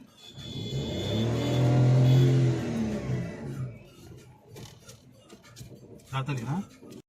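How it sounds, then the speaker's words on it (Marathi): Cars travel the road toward the Anganewadi village fair as one vehicle swells loud and close with a revving engine, then fades away, followed by quieter road noise and brief voices talking. "भरपूर गाड्या आहेत आमच्या पुढे पण मागून पण गाड्या आहेत"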